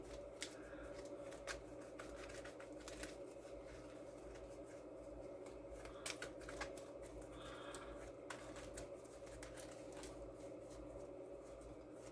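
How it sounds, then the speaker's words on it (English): A deck of sleeved cards for the board game Welcome to the Moon gets riffle shuffled, giving quiet, close bursts of crisp flicking and clicking that repeat at irregular intervals with no talking. "So I'm going to shuffle this deck up."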